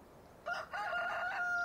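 Rooster crowing in the farming video game Farming Simulator 15: a single drawn-out cock-a-doodle-doo, moderately loud over a faint ambient background, with no talking.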